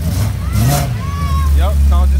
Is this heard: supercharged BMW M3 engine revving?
yes